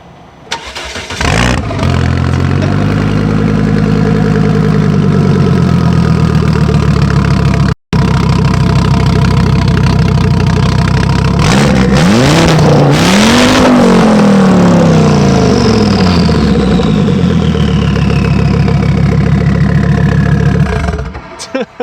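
A car engine starts, idles roughly, then revs hard and loud in a long sustained burnout, pitch rising and falling, with tire squeal and brief voices.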